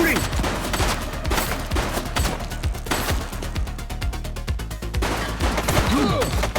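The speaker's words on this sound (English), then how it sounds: "He's shooting!" Enemy gunfire in The Precinct crackles in rapid, steady automatic bursts, close and loud, layered over game music and ambient effects with occasional voice.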